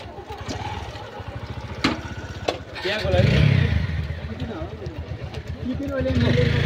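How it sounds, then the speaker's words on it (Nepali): A motorcycle engine starts up and revs at close range, its steady rumble running under loud nearby talking as the riders prepare to head off toward a campus. "बाइक स्टार्ट गरेर हामी त्यहीमै पुग्छौँ"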